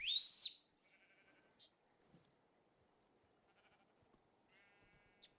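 Sheep bleat in the Minecraft game RLCraft, a few short, bright electronic bleats near and far over a quiet background hiss, with a louder burst at the start and more calls scattered through.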